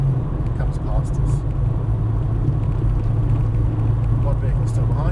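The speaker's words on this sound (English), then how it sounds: "now applying firm gas up the hill" A Volkswagen Golf GTI Mk2 engine pulls under firm throttle up a hill, a steady close droning rumble heard from inside the car beneath a driver's running commentary.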